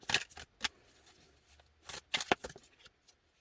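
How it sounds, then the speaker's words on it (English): Tarot cards being shuffled by hand, a few quick papery riffling bursts separated by short pauses, close and fairly quiet, with no talking. "I just want to give these a good shuffle."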